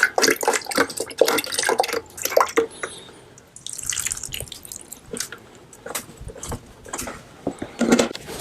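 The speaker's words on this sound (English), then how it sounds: "I'm actually going to use the water to rinse out" Water splashes and drips while a coffee container is rinsed out during preparation of worm bin bedding, with close sloshing bursts at the start and again near the end, separated by quieter trickles.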